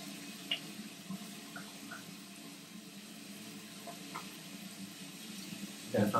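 Tap water runs steadily into a sink while a man wets his beard, a continuous gentle splashing with brief drips, followed by louder handling and splashing at the very end.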